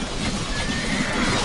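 A horse neighs loudly over a dense battle din in Age of Empires II, the whinny rising and wavering for a second and a half, with faint hoof clatter in the busy background.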